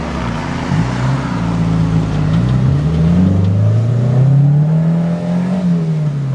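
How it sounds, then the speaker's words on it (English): A car accelerates hard out of a corner, its loud engine note climbing steadily in pitch as it pulls away, close and continuous with no talk. "So I'll just gas it out of this corner."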